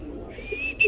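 A racing pigeon arrives at its loft during a sprint race and gives a soft, brief coo against faint background noise.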